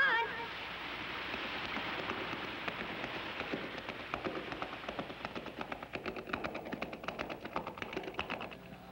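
Cartoon waterfall in a Gumby episode: a continuous wash of rushing, splashing water at a constant level, growing slightly more crackly and spattery toward the end, with no speech.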